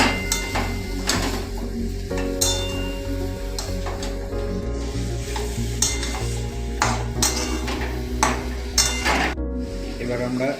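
Chicken pieces cooking in a spiced masala in a pan, with sizzling and frying under repeated clinks and scrapes of a spoon stirring against the metal, close and busy throughout, with some background music.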